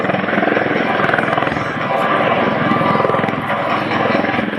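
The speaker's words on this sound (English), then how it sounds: "This is the MV-22 Osprey." A Marine Corps MV-22 Osprey tiltrotor from Air Station Miramar flies past at an airshow, its loud rotor thump and engine roar sustained and close throughout, with a faint voice in the background.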